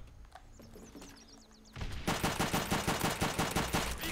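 Video game machine gun fire in Call of Duty: World at War, a loud rapid burst of evenly spaced shots after a quieter stretch of distant game ambience with faint chirps.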